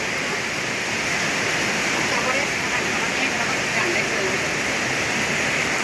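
Heavy rain pours down while water runs along a road toward a house, a dense, loud, unbroken roar of rainfall and flowing runoff filling the whole stretch.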